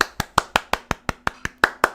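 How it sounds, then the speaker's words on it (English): A small meetup audience claps after a game jam judging, with sharp, fairly sparse claps at a steady pace, about a dozen distinct hits over two seconds, close and moderately loud. "So a bit of round of applause"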